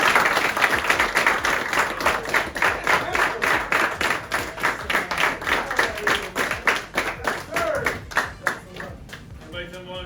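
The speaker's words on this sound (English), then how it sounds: "Clap it off for Coach Kane." An audience gives Coach Kane, a legendary Hermitage football coach, a steady round of applause with crowd noise and some voices, the clapping fading toward the end.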